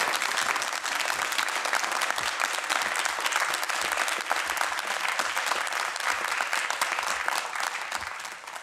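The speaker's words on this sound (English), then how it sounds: "So maybe you wouldn't mind giving them a little clap." Sustained audience applause fills a room after a theatre piece about dementia, dense and steady clapping throughout, fading slightly at the end.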